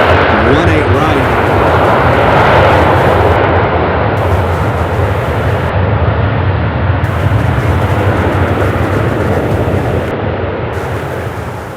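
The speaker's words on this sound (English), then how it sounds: "Texas, American Airlines 818. Next up, an A321 arriving from Denver, Colorado, American 1617." An airliner arriving on runway 18R at Charlotte Douglas International Airport produces a loud, sustained roar of jet engines that fills the whole clip and gradually fades toward the end.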